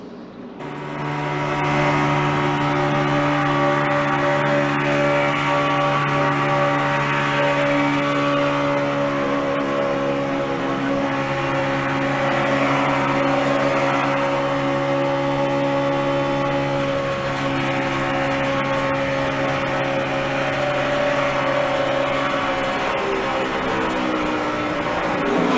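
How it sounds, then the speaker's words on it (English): A NASCAR Sprint Cup race car engine at Talladega drones steadily on the backstretch, a sustained loud tonal hum with strong harmonics that holds for over twenty seconds with no talk. "listen to David Ragan's engine as he goes down the backstretch"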